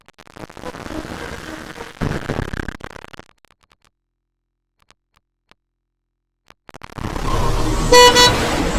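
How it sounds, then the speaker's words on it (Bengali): A bus approaches on a stormy road, engine rumble and traffic noise up close, then silence, before the roar returns and a loud, tonal horn honks repeatedly near the end. "উল্টো দিক থেকে একটা বাস আসছে"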